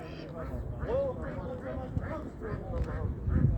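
Ducks quack repeatedly among mixed birds at a poultry and bird market in Ganja, the calls close and moderately loud over a murmur of crowd noise and occasional thumps.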